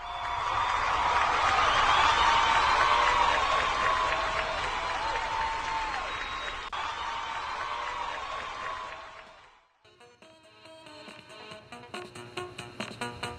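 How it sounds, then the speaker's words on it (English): An audience applauds in a sustained round of clapping that gradually fades, followed by background music. "Let's give each one of us a round of applause."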